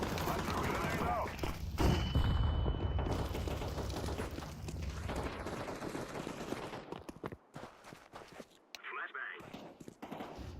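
Dense video game gunfire and explosive blasts roll along in continuous volleys, loud and close, with the mix thinning into sporadic cracks later; a voice talks over the action.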